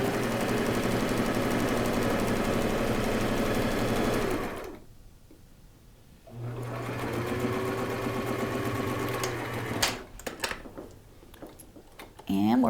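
A sewing machine runs a straight stitch on turban fabric with a steady, fast mechanical whir, pausing briefly midway before whirring again, then stopping to a few clicks and light handling sounds.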